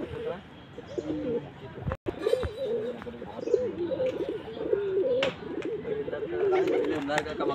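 Pigeons of the lal dum breed coo repeatedly in a loft, soft throaty calls close by, with someone speaking Hindi over them throughout.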